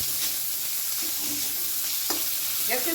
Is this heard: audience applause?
no